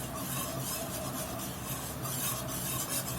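A spoon scrapes and stirs flour through hot vegetable oil in a pot, building a roux for crawfish étouffée. The rasping strokes are close and continuous, with no one talking.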